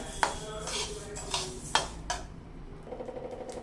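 Dry coriander seeds are stirred in a pan with no ghee for a panjiri mix, giving a few sharp metallic scrapes and clinks early on, then quieter scraping and faint rattling with no one talking.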